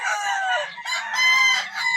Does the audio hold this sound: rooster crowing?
yes